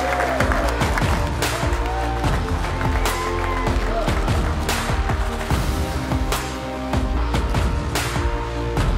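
A crowd at a live CS:GO esports match cheers and applauds for a team, a dense, steady roar of clapping and shouting that fills the whole stretch with scattered voices mixed in.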